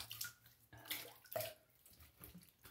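Tap water running over a razor during rinsing after a shave, faint splashing and trickling in short intermittent bursts.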